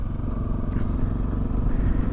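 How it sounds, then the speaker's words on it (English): Honda CRF250L dual-sport motorcycle with a single-cylinder 250 engine derived from the CBR250R, heard while riding: a steady, close, low engine drone with slight rises in pitch and some wind, no talk. "I'm enjoying the motor on this bike."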